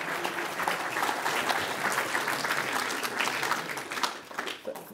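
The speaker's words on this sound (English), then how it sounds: "Thanks a lot for the applause" An audience at a history lecture on the Eastern Front of 1914 applauds after the speaker is introduced, a full, steady round of many hands clapping that stays loud and fades slightly near the end, with no speech over it.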